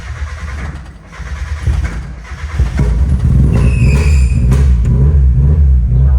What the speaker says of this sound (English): Hopefully the next clip is this car starting.